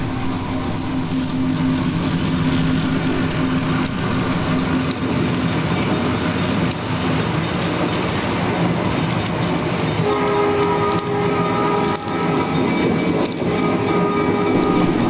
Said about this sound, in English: It's a long freight headed by 3 6-axle U-boats heading towards Selkirk.